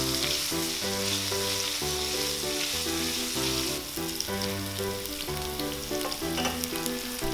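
Frozen dumplings pan-fry in oil over low heat with a spoonful of minced garlic, giving a steady, close sizzle and crackle that runs through the whole stretch under a musical background with no talking.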